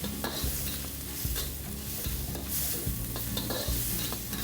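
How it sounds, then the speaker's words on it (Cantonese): Shallots fry in oil in a wok for oyster congee, a dense close sizzle with a regular rhythm of metal stirring scrapes, no speech. "頭先個土油度，乾葱嗰度一齊爆香佢"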